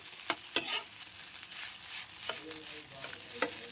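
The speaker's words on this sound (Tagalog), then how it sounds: "nag-fried rice na rin ako guys. Yung natirang kanin kagabi" Leftover rice is fried and stirred in a pan, giving a soft steady sizzle broken by several sharp scraping clacks of the spatula, heard close up and fairly quiet with no talking.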